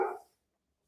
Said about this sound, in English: You'll probably hear my dog losing his mind in the background